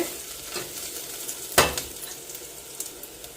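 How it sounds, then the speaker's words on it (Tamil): Chopped medium onion sautéing in a pan, a steady soft sizzle with a sharp stirring scrape of a utensil midway and lighter clinks after, no talk. "வெங்காயம் வந்து இந்தளவு வதங்கிட்டு"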